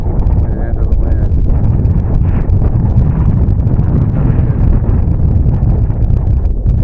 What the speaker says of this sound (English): Oh, we're getting a good gust now.